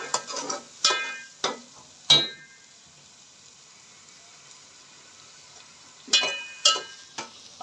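Peas fried in a pot for aloo matar pulao: short clusters of scraping stirring strokes, close and fairly crisp, separated by a quiet pause.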